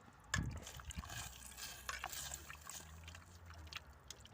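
Creamy bacon, chicken and mushroom casserole with sweet corn stirred in a pot: faint wet sloshing and soft scraping strokes, a brief clunk near the start, quiet and close.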